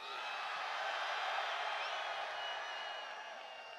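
Crowd at a Bernie Sanders campaign rally in Brooklyn, New York, a dense wash of cheering, whooping and applause, steady and fairly distant, fading slightly near the end.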